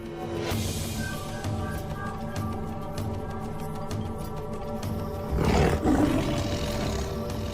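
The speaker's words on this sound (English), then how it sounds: "The deep rumble of a lion's roar can be heard 8 kilometers away." A lion roars close by, deep rumbling grunts repeating in a steady series, one louder surge near the end, with no voices.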